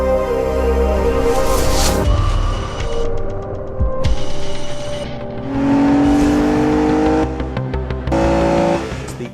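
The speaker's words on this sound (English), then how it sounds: "Effortless performance from this 6-litre V12 engine, effortless torque, effortless power." An Aston Martin DB9's 6-litre V12 engine revs loudly and close, its pitch climbing and falling through several throttle blips and a sustained high-rev stretch, with no talking.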